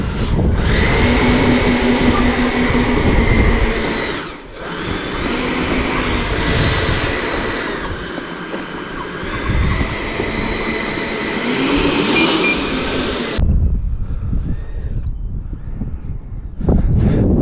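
Heavy wind buffeting a microphone, a continuous roaring rumble with gusts over a steady engine-like drone, loud and close.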